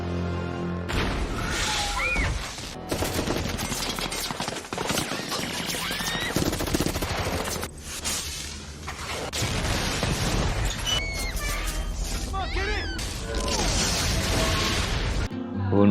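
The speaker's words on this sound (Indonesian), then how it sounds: "rumah si prank dirudal serta ditembaki sekelompok pria hingga hancur" Dense movie gunfire rattles in sustained machine-gun bursts alongside crashing explosions from a missile strike destroying a house, loud and continuous throughout with a brief drop near the end.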